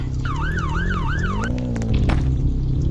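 An ambulance siren wails in the Roblox game Brookhaven, a loud rising-and-falling electronic tone cycling several times over engine rumble and game noise before cutting off.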